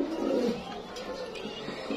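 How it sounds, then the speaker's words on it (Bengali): A pigeon, a satin breed among English and Chinese owl types, gives a soft low coo, close and fairly faint, in a brief burst that fades into quiet background. "একবারে একটা ফিটেস্ট কবুতর"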